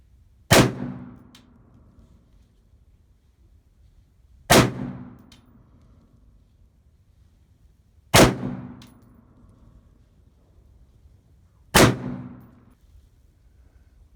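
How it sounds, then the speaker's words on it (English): Four sharp, loud AR pistol gunshots fired outdoors without a brace, evenly spaced a few seconds apart, each a hard crack with a short ringing decay and quiet between. "This is the AR pistol in original configuration."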